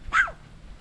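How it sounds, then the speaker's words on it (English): A single short, sharp bark from a dog named Nala barking at chickens outdoors, fairly faint and alone. "Nala's over here barking at the chickens."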